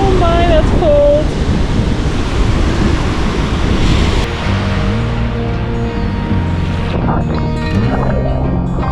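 Pacific surf rolling onto the beach at Fort Stevens State Park, Oregon, a loud continuous wash of breaking waves with heavy wind rumble, briefly overlaid by a voice and later by other tonal sounds.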